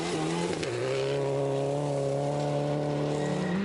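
Subaru rally car racing on a forest stage at the 2008 Canadian Rally Championship Pacific Forest Rally, engine roaring loud and close with a sustained high drone and a brief drop in revs near the start.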